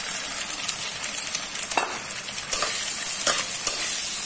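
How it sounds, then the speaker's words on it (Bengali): An egg sizzles in a pan of onions that are frying to a reddish brown, giving a steady bright hiss with a few crackling spikes and scrapes throughout. "পেঁয়াজটা একটু একটু ভাজা ভাজা হয়ে এসছে, লাল লাল হয়ে এসছে। আমি এবার এখানে একটা ডিম দিয়ে দিচ্ছি।"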